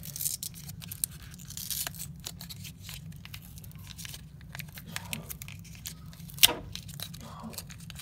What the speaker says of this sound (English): This one's wrapped pretty good, so might be a bit hard to get it out.